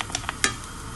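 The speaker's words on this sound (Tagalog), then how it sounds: "Ngayon, igisa na natin ang ricado. Igisa natin ang sibuyas," Onion and garlic sautéing in a pan for a fish and rice dish make a steady sizzle, with a few quick scrapes and taps of a utensil during one brief close moment.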